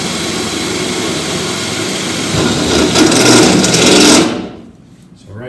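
Step drill bit boring a hole with a power drill, a steady loud whirring grind that rises in pitch toward the end before the drill stops abruptly.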